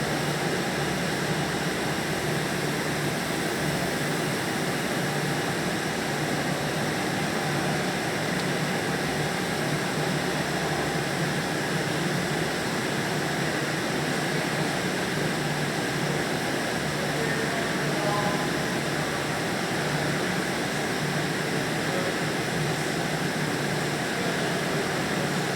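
An AC refrigerant recovery machine runs with a steady, loud mechanical hum and hiss that does not change for the whole stretch, with no talking.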